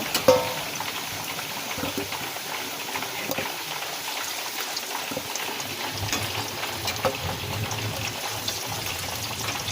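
Potatoes frying in hot oil in a home kitchen, a steady soft sizzle and crackle running continuously at close range with no voices.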